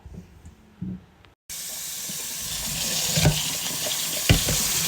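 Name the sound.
water running while washing fruit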